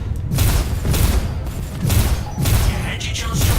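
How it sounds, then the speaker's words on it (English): Missiles are fired at a ship in the space game Star Citizen from an RSI Constellation, giving a rumbling series of booming launches and thuds. The bursts are loud and overlapping, with a deep roar throughout. "we'll take a big chunk out of him with some missiles."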